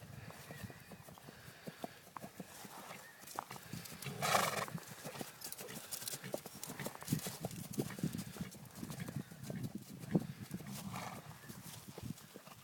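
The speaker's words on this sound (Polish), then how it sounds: "Czemu on tak nierówno jedzie, ten koń?" A horse is ridden over uneven ground, its hooves clip-clopping steadily and close, with a whinny partway through and brief voices in the background.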